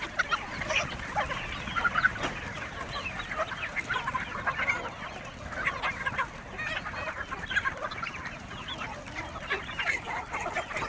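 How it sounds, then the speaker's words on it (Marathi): Free-range village hens cluck busily as they come out to feed in the morning, a steady overlapping chorus of short clucks at moderate distance with no talking. "सकाळी सकाळी मस्त खाण्यासाठी किती सनाट निघातात कोंबड्या आज."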